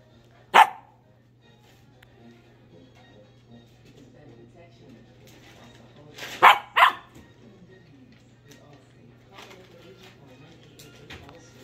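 A dog barks close by: one sharp bark, then a quick double bark a few seconds later, with quiet room sound in between.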